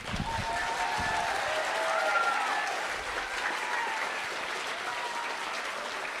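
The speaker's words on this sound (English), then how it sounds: "I hear cheers and wild applause from our students, sixth graders in the audience" Cheers and wild applause from an audience of sixth-grade students at a school event, a dense steady roar of clapping and shouting that holds loud throughout with faint voices in the mix.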